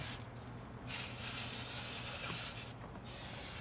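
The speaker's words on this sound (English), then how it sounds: "we're going to go ahead with our brake parts cleaner and clean everything" Brake parts cleaner sprays from an aerosol can onto the front brakes of a 2009-18 Dodge Ram 1500 pickup, giving a loud, close hiss in two long bursts with short pauses between them.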